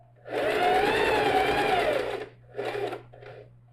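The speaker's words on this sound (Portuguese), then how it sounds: "Tô chegando ao final dessa primeira costura de pesponto." A loud, close sewing machine topstitches a backpack in one sustained run, then stops and gives two shorter bursts.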